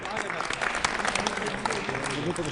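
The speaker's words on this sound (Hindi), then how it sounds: "स्वागत कीजिए तालियों के साथ" Audience applause welcomes a poet onto the stage at a Hindi poetry gathering (kavi sammelan), a dense, continuous clapping from a large crowd with a voice faintly mixed in.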